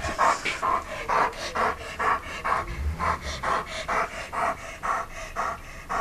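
A puppy pants rapidly and steadily up close, with quick rhythmic breaths of around two a second running through the whole stretch and no talk over them.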